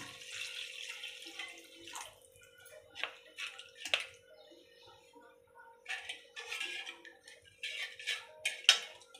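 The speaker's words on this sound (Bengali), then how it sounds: "এই দেখেন জল দিচ্ছি" Water poured into a pan of doi katla, a Bengali yogurt carp curry, gives faint, intermittent splashing bursts over a low steady hum in a quiet kitchen.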